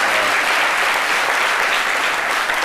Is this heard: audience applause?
yes